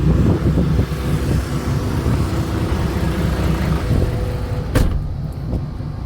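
A six-wheel truck with a W06E turbo engine drives along, its deep engine rumble steady and loud under buffeting wind noise, with a sharp click near the end.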